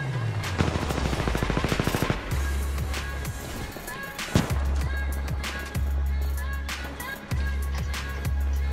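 Rapid automatic weapon fire in the shooter game Titanfall 2, a fast rattling burst early on followed by repeated single heavy shots and sharp impacts over low engine-like rumble.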